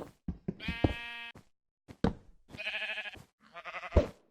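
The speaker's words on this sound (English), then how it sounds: "these sheep are gonna drive me nuts" Sheep bleat in Minecraft: several distinct wavering, harmonic bleats in a row, close and fairly loud, separated by short gaps and a few soft knocks, with no talk.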